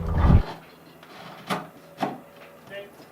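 A bolt driven through wood while installing a sailboat's main chainplates: a low knock at the start, then a few rough wooden rubbing scrapes spaced about half a second apart, fairly close and quiet.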